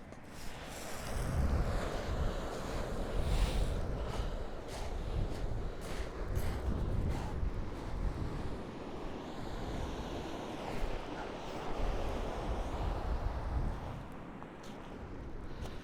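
Choppy sea waves wash steadily onto the beach at Winchelsea, a loud continuous surf roar mixed with gusty wind buffeting the microphone, with no pauses throughout.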